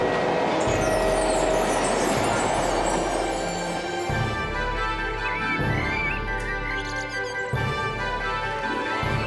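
A cartoon flying train carrying players to an amusement park, with a steady loud rumble and rhythmic clatter of rolling carriages throughout, plus brief whistling tones partway through.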